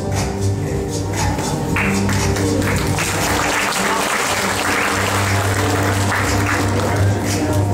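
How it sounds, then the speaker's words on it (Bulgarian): An audience applauds a fashion model at a national Young Talents in Fashion competition in Varna, with steady, dense clapping that fills the hall throughout, a presenter's voice faintly mixed in. "Аплодисменти за модела на професионална гимназия и доктор Иван Богоров, град Пловдив"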